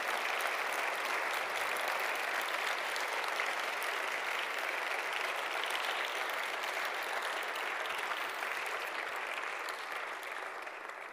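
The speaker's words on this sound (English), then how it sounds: "we need to give him a round of applause" Steady, sustained applause from a lecture audience, a dense even wash of many hands clapping that holds for the full length at a constant level, tapering only slightly near the end.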